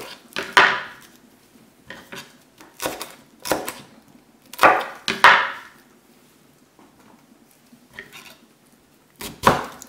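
A yellow bell pepper is chopped on a board in a handful of sharp, separate knife strikes with pauses between, close and crisp in a quiet room.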